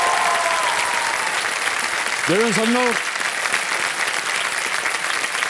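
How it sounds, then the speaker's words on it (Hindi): Loud, sustained applause from a TV quiz-show studio audience greeting a contestant in the hot seat, a dense wash of clapping that runs the whole stretch while someone briefly speaks over it. "तालियां तो छबली हो गई है जनता की"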